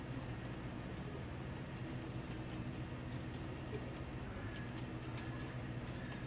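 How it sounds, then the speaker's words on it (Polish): A train in Farming Simulator 22 slows under braking, a steady low mechanical rumble with rail clatter lasting throughout, loud and continuous with no voices. "niech pociąg sobie tam hamuje"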